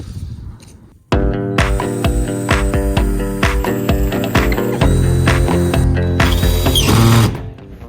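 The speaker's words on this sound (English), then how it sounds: "Now what we're gonna do is drill our first." A power drill whines loudly and continuously as it bores through the metal body of a Ram Promaster van, the pitch shifting as it bites, then cuts off abruptly.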